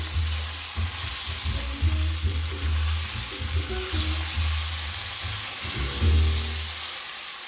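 Mushrooms and green bananas sizzle steadily in a frying pan while being stirred, a close, continuous crackle with soft scraping bumps and no talking.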